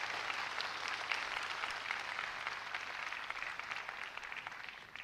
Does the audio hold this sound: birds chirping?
no